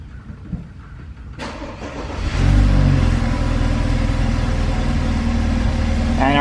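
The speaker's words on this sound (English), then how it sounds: "I'm gonna go start this car" A BMW F30 engine cranks over and catches, then settles into a loud, steady idle close by.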